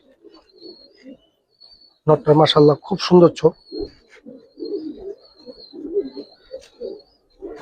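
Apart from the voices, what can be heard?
young pigeons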